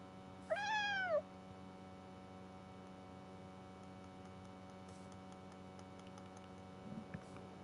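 A single cat meow from a video game sounds once near the start, a clear rising-then-falling cry over a steady faint electronic hum, followed by soft clicks.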